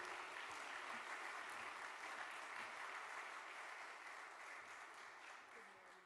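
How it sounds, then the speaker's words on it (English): Sustained applause from a large audience at an investment business conference in Jamaica, a steady dense clapping that holds evenly for several seconds before gradually tapering off, with no speech over it. "Ladies and gentlemen, put your hands together for Senator, the Honorable Auburn Hill, Minister of Industry, Investment and Commerce"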